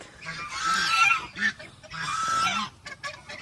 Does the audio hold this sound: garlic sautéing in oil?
no